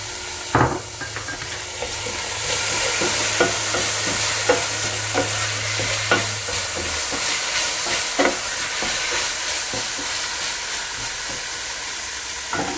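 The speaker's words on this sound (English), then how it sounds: "I've stir fried this for about four minutes now. That's the garlic, the onion, and the ginger." Garlic, onion and ginger with sage, thyme and rosemary stir-fried in a pan, giving a steady close sizzle broken by repeated scraping stirs and clacks, with a brief low hum early on.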